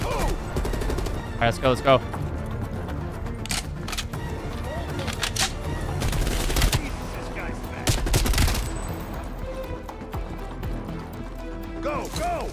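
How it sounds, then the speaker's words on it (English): Rapid bursts of automatic gunfire and single shots in the Cold War-era shooter Call of Duty: Black Ops Cold War, loud and clustered in repeated volleys, with a voice talking over the firing. "Who the fuck is shooting me?"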